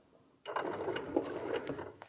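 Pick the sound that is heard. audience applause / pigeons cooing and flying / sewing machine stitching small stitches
sewing machine stitching small stitches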